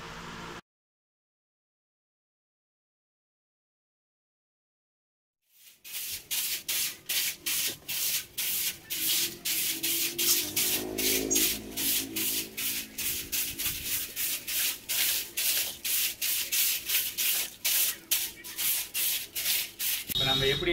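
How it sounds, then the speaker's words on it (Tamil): A homemade broom made from plastic bottle strips brushes against walls to clear cobwebs, producing a long run of rhythmic scratchy rubbing strokes after a few seconds of silence, loud and close. "இதை வச்சு நான் எப்படி ஒட்டடை அடிக்கின்றது"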